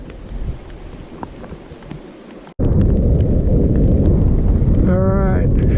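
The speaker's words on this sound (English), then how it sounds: "It's raining real good" Heavy rain pours down during an e-bike fishing trip, a dense, loud hiss that jumps suddenly louder midway and stays steady, with a brief chirping tone near the end.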